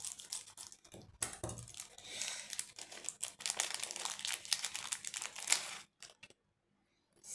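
Scissors snipping and crinkling plastic packaging to free a Stitch necklace, close and crisp, a run of rustling cuts, then a brief pause near the end, no talking.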